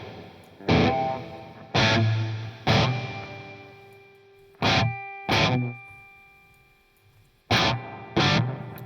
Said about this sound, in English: the final reverb sound doesn't really have that much treble right now